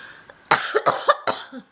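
A short run of harsh coughs, three or four sharp bursts in quick succession, close and loud.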